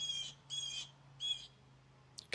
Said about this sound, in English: You can still hear birds